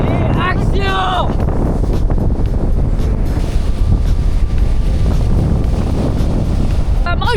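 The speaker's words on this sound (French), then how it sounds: "on est à la plage, il y a du vent et tout" Strong wind at a beach buffets the microphone with a loud, continuous roar that runs throughout, while voices speak briefly at the start and end.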